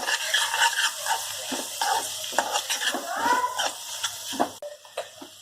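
Ridge gourd and tomato curry stirred in a pan, with steady spoon scraping and clinks against the metal over a soft sizzle, close and fairly loud.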